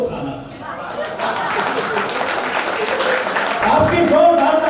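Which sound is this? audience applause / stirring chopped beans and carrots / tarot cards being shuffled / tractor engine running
audience applause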